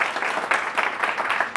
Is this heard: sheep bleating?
no